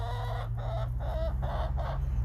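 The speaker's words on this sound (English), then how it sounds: "These guineas were just squawking away." Guinea fowl squawk in the snow on a winter farm, giving about five rhythmic raspy calls over a steady low hum, moderately close and with no talking.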